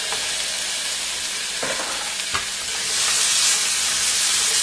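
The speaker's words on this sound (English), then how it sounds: "I'm also going to throw in at the same time my andouille sausage" Minced jarred garlic and smoky andouille sausage sizzle in a pan for a fish stew, a loud steady fry hiss with a couple of stirring scrapes, swelling louder toward the end.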